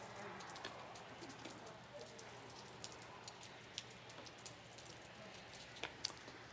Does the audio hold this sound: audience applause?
no